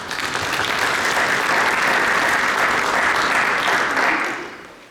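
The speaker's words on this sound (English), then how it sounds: "Let's give these students a round of applause too." Sustained applause from an audience at a high school National Honor Society induction ceremony, steady and dense across the room, fading out near the end.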